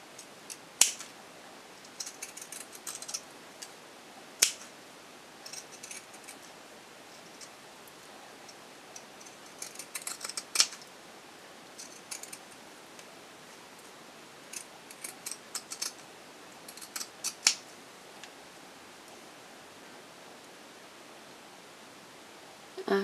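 Scissors trimming the backer fabric of an exposed-core cloth pad, quiet irregular snips and crisp fabric rustles in scattered clusters, close and faint over a soft hiss.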